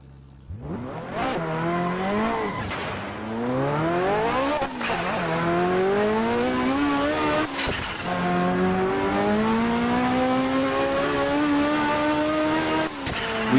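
A tuned Ferrari F40 in the Assetto Corsa racing game, sliding at full throttle in low gears: the engine screams up through repeated rising revs with brief drops at gear changes, under constant loud tire squeal.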